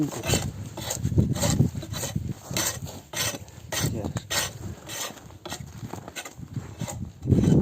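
A chisel scrapes the inside of a hollowed wooden log beehive in repeated rasping strokes, a rough rhythmic grinding at close range, with brief pauses between passes.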